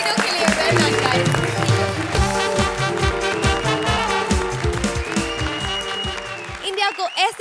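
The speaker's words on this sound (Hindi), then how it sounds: "जोरदार तालियां उठाएं इन तीनों के लिए।" Studio audience at a Comedy Circus taping breaking into loud, sustained applause, dense clapping filling most of the stretch before fading out near the end.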